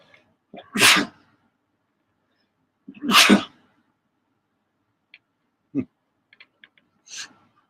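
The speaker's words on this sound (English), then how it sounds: "I have a sneeze coming up" Two loud, close sneezes burst out a couple of seconds apart, followed by sniffles, small clicks and a third lighter sneeze.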